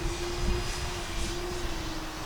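An E-flite Twin Timber RC plane flies with its electric motor running, a steady tonal whine over heavy gusting wind rumble.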